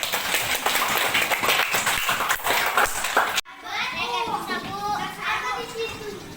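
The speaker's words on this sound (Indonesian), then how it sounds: "Tepuk tangan." Children clap together loudly in a classroom for a few seconds; the clapping cuts off abruptly and is followed by a hubbub of young voices chattering nearby.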